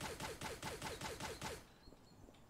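Rapid video-game gunfire as a player shoots at an enemy: a fast burst of about nine evenly spaced shots over a second and a half, loud and close, then a quiet tail.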